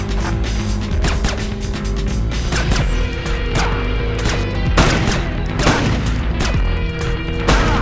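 Dense, continuous gunfire in the Splinter Cell video game's submarine level, overlapping rapid shots and sharp cracks at high, steady loudness throughout with no pauses.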